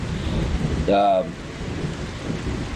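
Low rolling thunder and steady rain fill a stormy scene in a continuous dull rumble, broken once by a brief voice cutting through.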